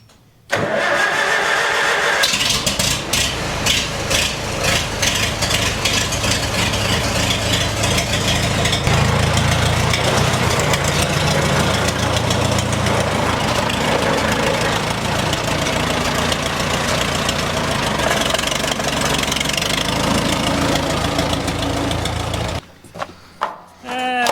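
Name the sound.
engine starting with a key and idling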